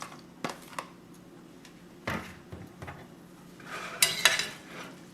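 Beef chunks and green onion are stirred in a saucepan for Mongolian beef, with a few sharp spoon knocks against the pan and a soft scraping, close and fairly quiet over a faint low background hum.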